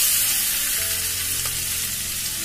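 Thin coconut slices crackle and sizzle in hot oil in a pan, a steady close frying sound with soft stirring scrapes and no voice.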